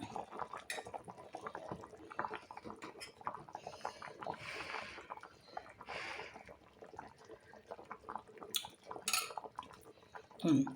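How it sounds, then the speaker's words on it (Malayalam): Fish curry with ground curry leaves simmers in a pot, a quiet bubbling blended with clinks of a spoon and pan handling, close by, with faint voices in the background. "നമ്മൾ കറി ഒരുവിധം ഇവിടെ തിളച്ച് വന്നിട്ടുണ്ട്"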